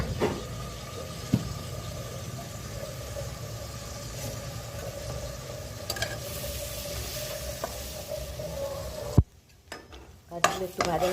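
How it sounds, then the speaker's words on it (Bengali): Soaked cashews fry in ghee in a kadai, giving a soft, steady sizzle with a few faint clinks, and a short sharp clatter near the end. "কাজুগুলো একটু ভাজা হয়ে গেছে।"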